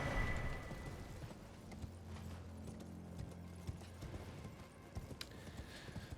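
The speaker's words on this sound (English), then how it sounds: "Give me my horse, please." In the Elden Ring video game, a horse's hooves clip-clop in a soft, steady run of low thuds under faint ambient game sound, fairly quiet and distant.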